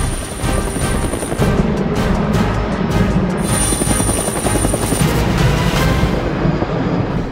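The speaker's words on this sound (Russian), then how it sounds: "На очереди вертолет Ми-8." Mi-8 helicopter in a flight simulator, its rotor beating as a loud, steady, dense chop with a continuous turbine whine running throughout.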